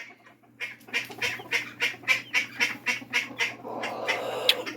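Backyard chickens cooped up indoors cluck in a steady series of about a dozen clipped calls, close and clear, ending in a rougher burst of mixed squawks and scratching.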